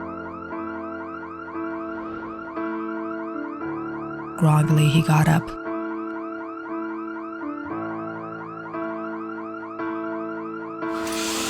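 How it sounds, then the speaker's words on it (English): A car alarm blares in a repeating warbling cycle, loud and steady, with a brief burst of noise midway and a voice narrating over it, in an animated horror story. "the car alarm blared again"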